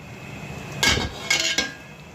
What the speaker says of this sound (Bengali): ঢেকে দিচ্ছি, গ্যাসটা একটু কমিয়ে দিচ্ছে।